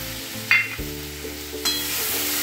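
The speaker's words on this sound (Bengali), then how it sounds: "এইবার আমি ওই লঙ্কা আর রসুনের বাটাটা দিয়ে দিচ্ছি, এটা কষা হবে" Chilli and garlic paste hits a hot pan and fries, giving bursts of sharp sizzling and stirring scrapes over a low steady tonal hum, with no talking.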